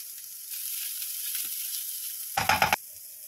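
Dill leaves frying in a paddu masala mixture give a soft continuous sizzle with a brief louder burst of stirring near the end, close and fairly quiet with no talk.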